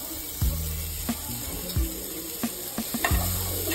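Onion and spice paste sizzle in a hot pan for chicken sukka, with repeated scraping stirs of a spoon every half second or so over a steady frying hiss.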